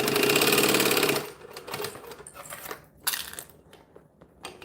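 A sewing machine runs fast and steady while top stitching a fabric bag, a loud continuous whir for about a second before it stops, followed by quieter handling clicks and rustles.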